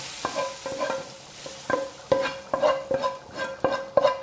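A hot spice tempering being poured over lamb neck and chana dal in a kadai, with crackling sizzle and sharp spatula strikes against the pan recurring about every half second.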